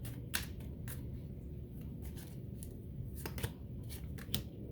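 Tarot cards being shuffled and drawn for a love reading, a steady papery rustle with a few sharper snaps and flicks of cards, close up and without talk.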